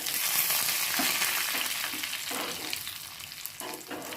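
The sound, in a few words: garlic and curry leaves frying in tempering oil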